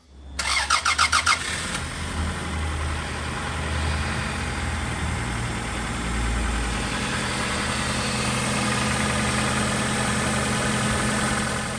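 A freshly rebuilt Toyota RAV4 3SFE engine cranks with a rapid stuttering whir, catches, and settles into a steady, fairly loud idle that runs on with a low rumble.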